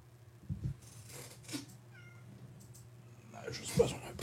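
A cat indoors gives a clear meow and a few softer sounds nearby, with a person's voice talking faintly in the background.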